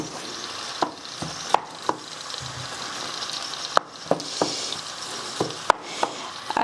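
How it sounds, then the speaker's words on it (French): Ground meat frying in a pan and stirred with a spatula: a steady close sizzle broken by regular sharp scrapes and taps of the spatula against the pan, with no voices. "avec la même spatule, je vais mélanger la viande hachée"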